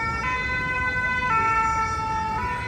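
Emergency vehicle siren on a Paris street, a loud two-tone wail that switches pitch roughly every second, sounding over steady traffic noise.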